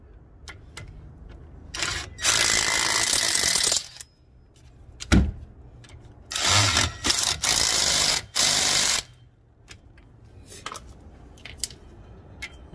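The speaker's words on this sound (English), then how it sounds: "Then you can put your power tools on it, tighten it up." Power tool bursts tightening wheel bearing bolts on a 2007 Buick Rendezvous front hub, four loud buzzing runs of one to two seconds each separated by short pauses and clicks, close by with no talk.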